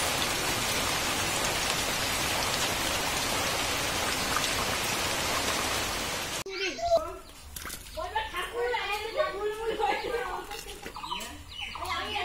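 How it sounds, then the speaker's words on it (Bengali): Steady rain falls hard on a rainy day, a dense, loud hiss that fills the first half before cutting away to a quieter outdoor scene with birds calling and fowl clucking nearby. "বৃষ্টি চলে এসছে।"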